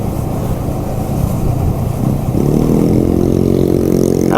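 A scooter engine revs hard and steady while the rider pulls a long wheelie through narrow lanes, the pitch climbing into a loud sustained drone that holds close and strong to the end.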